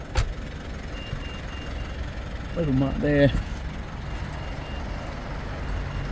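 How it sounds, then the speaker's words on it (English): A 2022 Mitsubishi Pajero Sport GSR's faint electronic warning beep repeats over its low idling engine, while someone says a few words close by. "That's of course just beeping at me to let me know the car is still running"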